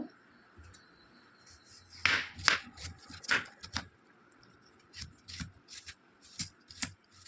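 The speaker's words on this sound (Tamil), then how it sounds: "இந்த மாதிரி எல்லாத்தையுமே ஸ்லைஸாக நம்ம கட் பண்ணி எடுக்கணும்." A knife slices raw green mangoes into thin pieces for mango pachadi, giving a series of soft, crisp cutting taps and scrapes at close range. The strokes come quietly in an uneven rhythm, with no talking.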